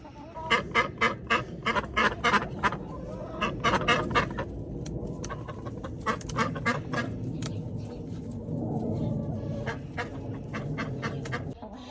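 Backyard fowl, tagged as chickens, give a run of sharp repeated clucks and quack-like calls in bursts, close and fairly loud, over a rustling outdoor background with no voices.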